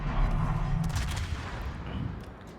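A cruiser fires armor-piercing shells in a naval battle game, with deep booming salvos and a low rumble, followed by fainter cracks under a steady background roar.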